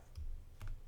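Two quick, faint keystrokes sound on a computer keyboard in a quiet room as someone types a short line of code.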